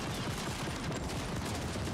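Dense, continuous gunfire from a spread of bullets in The Ascent, a rapid, unbroken rattle of shots at steady loudness with no pauses or voices.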